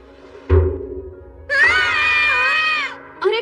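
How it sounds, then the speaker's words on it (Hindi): Two cartoon characters in a Hindi-dubbed Doraemon episode let out a loud, sustained wavering scream lasting over a second. A thud comes first, and a second cry starts at the end. "तुम दोनों चिल्ला क्यों रहे हो?"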